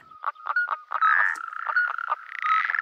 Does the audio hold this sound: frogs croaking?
yes